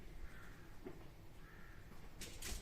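A crow caws outdoors in a rural Ukrainian yard, two faint drawn-out calls heard at a distance over a low background hiss.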